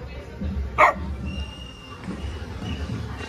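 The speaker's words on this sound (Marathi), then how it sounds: "काय कुत्रा त्यांचा चांगला बघ" A single short dog bark rings out once near the start, fairly close, followed by quiet background murmur and distant voices.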